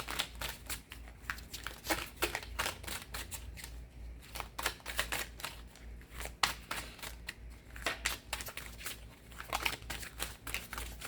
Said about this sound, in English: Get some life into these cards and get to shuffling.